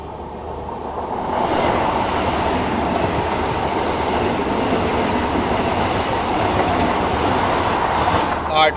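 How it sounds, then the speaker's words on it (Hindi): The eight-coach Gorakhpur–Prayagraj Vande Bharat train rushes past close by, rising from quiet into a loud, steady roar of wheels and rail rumble with faint clatter and squeal that holds to the end. "ये आ गई है गोरखपुर प्रयागराज वंदे भारत।"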